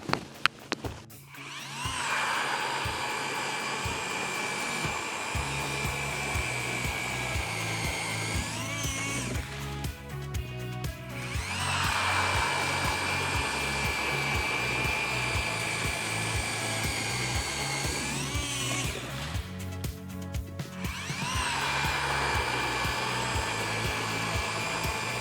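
An Eskimo E40 electric ice fishing auger drills holes in lake ice outdoors, a loud steady whining motor hum in long runs, briefly cutting out and restarting between holes.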